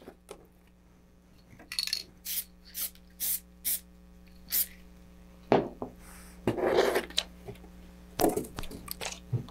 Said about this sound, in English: So I gotta make sure I spray the right side here.